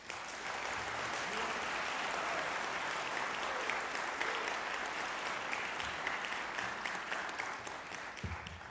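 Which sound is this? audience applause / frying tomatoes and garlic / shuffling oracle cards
audience applause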